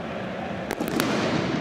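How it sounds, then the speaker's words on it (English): Firecrackers let off by Marseille fans in the stands at the 2018 Europa League final against Atletico Madrid: three quick sharp bangs in the middle, over a steady roar from the stadium crowd. "the Marseille fans continue to let off flares and firecrackers quite regardless"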